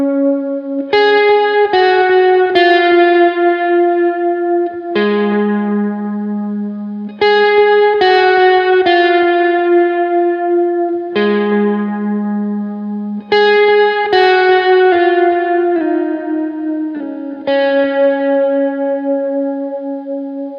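Electric guitar riff played on the neck pickup with light overdrive, a series of ringing single notes and double-stops in a slow repeating pattern, close and clear with echoey effects and no talking.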